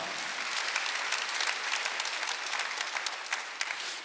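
Congregation applause during a Sunday worship service at a church, a dense steady clapping of many hands filling the room at moderate level throughout, with no speech over it.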